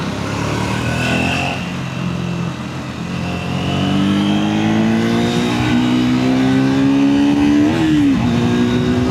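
A 2026 Triumph Speed 400 motorcycle engine revs hard at high RPM, its loud, close exhaust note climbing steadily in pitch before a brief dip and recovery.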